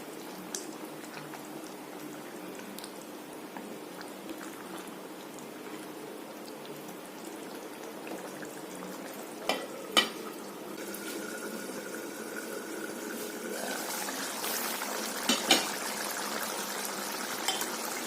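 Egg curry masala simmering in a pan makes a quiet, steady bubbling hiss, with a couple of brief clinks of stirring partway through and a louder burst of bubbling toward the end.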